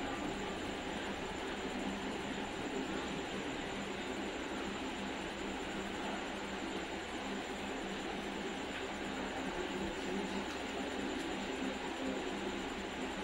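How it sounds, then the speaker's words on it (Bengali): Whole spices, dried red chillies, cinnamon, green and black cardamom, sizzle and crackle in hot onion-frying oil, a steady, even hiss close by with no talk. "পেঁয়াজ ভাজার তেলেতে এবার ফোড়ন দিয়ে নেব।"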